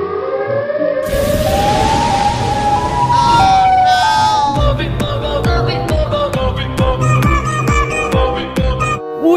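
Siren Head's wailing siren in a dinosaur video game: a loud rising and falling tonal wail over noisy bursts, followed by a series of sharp rhythmic clanks and hits, with no talk.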